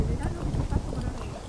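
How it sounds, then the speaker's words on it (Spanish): Horse hooves clip-clop on a rural country road in a farm colony, a quick run of close, soft thuds with voices talking over them. "Caballito."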